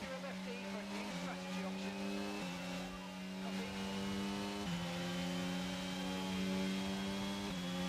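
A Formula 1 race car engine in the F1 22 video game at the Austrian circuit drones steadily, its pitch stepping up and down with gear changes, a continuous mechanical whine throughout.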